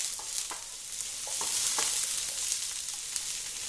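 Whole small shallots, eight to ten of them uncut, sauté in a pan with a steady sizzle broken by a few scraping stirs, loud and close with no talk.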